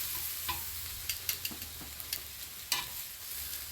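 Fajitas sizzling in a pan, a steady close hiss with scattered clicks and pops and a few stirring knocks, moderately quiet and with no talking.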